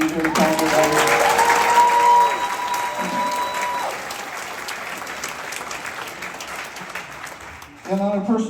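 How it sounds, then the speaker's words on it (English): Audience applause for volunteers at a live tribute concert in the historic Everett Theatre, loud at first and then easing to steady clapping, with a sung or spoken voice briefly over it early and again near the end. "Please give them a big round of applause and be very kind to them."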